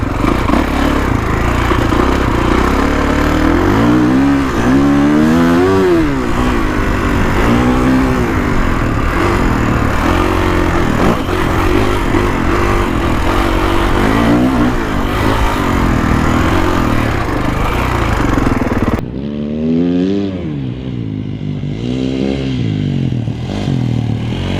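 A 2021 Kawasaki KX450X dirt bike engine revs hard while being ridden, loud and close throughout with rising and falling throttle sweeps, then quieter after a brief drop near the end.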